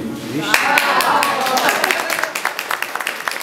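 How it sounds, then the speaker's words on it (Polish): Audience at an Independence Day centenary celebration in Mierzeszyn practising applause, a quick burst of clapping that thins into scattered, crisp individual claps near the end, with a voice briefly over the start. "Musimy poćwiczyć oklaski"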